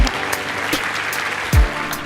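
Audience applause at a fireside chat with a venture investor, steady dense clapping across the clip with a brief low thump near the end and no one talking.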